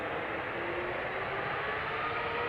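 A 16-year-old KLM Boeing 777-200ER, bound for Shanghai, spools up its jet engines: a steady, dense broadband roar that fills the scene continuously without letup.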